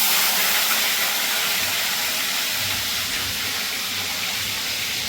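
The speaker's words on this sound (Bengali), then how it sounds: "এই দেখো আনাজগুলো এবার ভাজবো" Vegetables fry in hot oil in a village kitchen on a rainy day, giving a steady, loud, broad hiss that runs unbroken and close throughout.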